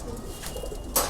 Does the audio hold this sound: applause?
no